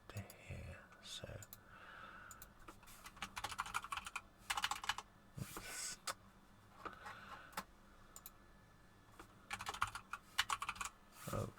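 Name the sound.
typing on a computer keyboard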